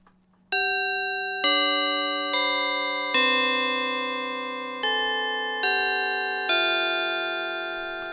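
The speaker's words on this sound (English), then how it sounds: "And this one is the more familiar, perhaps, tubular pipe bell." Bright tubular bell tones from a software plugin preset, struck in a slow melodic sequence, each chime clear and ringing with long shimmering decay overlapping the next.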